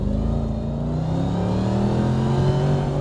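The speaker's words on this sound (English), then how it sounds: "I love the supercharger sound" A supercharged Mercedes-McLaren SLR engine revs and accelerates hard, a loud, steady low-pitched roar with a rising whine that holds close and continuous throughout.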